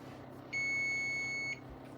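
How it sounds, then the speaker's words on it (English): A single electronic beep, steady and piercing, lasts about one second over a quiet background hum. "Timer's done."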